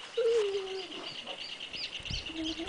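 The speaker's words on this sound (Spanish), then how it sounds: "escuchen los pajaritos," Small birds chirp outdoors at a countryside barbecue, with a clear whistled call near the start and faint twittering through the background, and a brief low rustle near the end.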